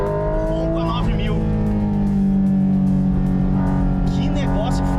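A high-revving car engine roars steadily near redline at around 9000 rpm, loud and sustained with rising and falling pitch as gears shift, up close throughout.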